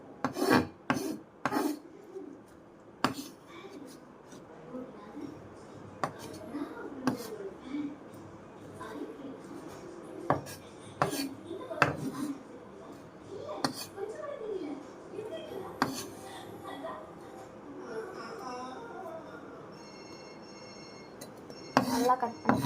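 Knife chopping onion and coriander for egg chaat on a cutting board, a series of sharp irregular taps and scrapes with some pauses, close and fairly loud, with faint kitchen clatter.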